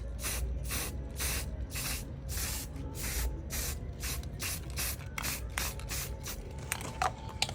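Aerosol spray can hissing in repeated short bursts over the roof of a small model farmhouse, each blast clear and close with brief gaps between, no voices.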